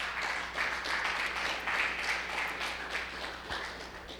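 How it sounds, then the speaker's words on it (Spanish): A church congregation applauds strongly for Christ Jesus during a Spanish-language worship service, a continuous, moderately distant crowd clapping that swells and eases in waves, steady throughout with no voices over it. "Den un fuerte aplauso a Cristo Jesús."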